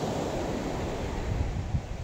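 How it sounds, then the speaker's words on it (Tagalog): Strong waves wash along a river in bright sun, a continuous rushing surf mixed with wind buffeting the microphone, nearby and steady with no voices. "medyo malakas ang alon"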